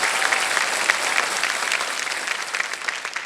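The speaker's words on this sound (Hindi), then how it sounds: "एक बार फिर तालियों के साथ हम इनका अभिनंदन करते हैं," Steady applause from a TV game show studio audience, a dense wash of many hands clapping continuously with no voices above it.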